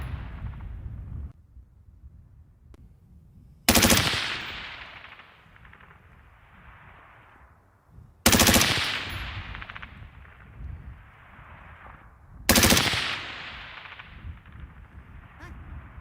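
An AR-15 rifle fires at a distant target on a long-range outdoor setting: three separate loud, sharp reports, each followed by a long echoing tail, with quiet gaps between them.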